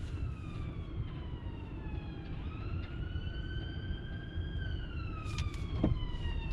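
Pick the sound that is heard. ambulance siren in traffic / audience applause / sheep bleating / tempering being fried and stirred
ambulance siren in traffic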